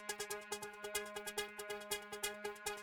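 Rhythmic synth ambience from Analog Lab, a steady sustained tone with pulsing, gated swells repeating in quick even beats, soft and low in level, with no voices.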